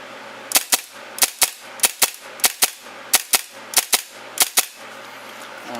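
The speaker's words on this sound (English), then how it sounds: "So let's just do some double taps or whatever." An airsoft pistol fires rapid double taps, seven or so pairs of sharp, loud cracks evenly spaced, with a faint mechanical clatter between shots and no talking.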